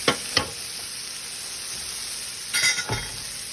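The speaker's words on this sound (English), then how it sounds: "so I'm sauteing the onions and I put a pat of butter in there" Onions sautéing in butter for a Southern-style steak and eggs breakfast give a steady soft sizzle, with a couple of brief spoon stirs or clinks near the start and again near the end.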